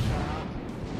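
Naval gunfire from a heavy cruiser in World of Warships, a deep booming rumble that fills the moment, continuous and fairly loud without clear separate shots.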